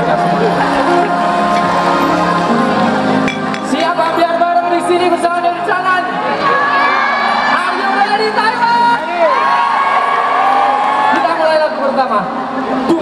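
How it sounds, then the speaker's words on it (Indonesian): At a concert in New Taipei City, a large crowd cheers and whoops throughout, mixed with loud amplified music and voices. "Tepuk tangan sekali lagi untuk mereka semua."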